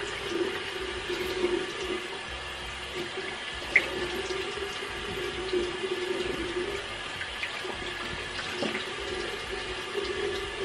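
Water runs steadily from a bathroom tap into a sink during face washing, a continuous close splashing hiss with small spatters and no talking.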